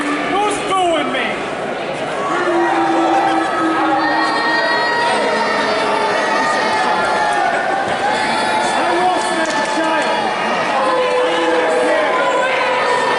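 Large crowd at a PPW wrestling event reacting as the heavyweight champion Sean Carr makes his entrance, sustained loud jeering and shouting with children's yells, a commentator talking over it.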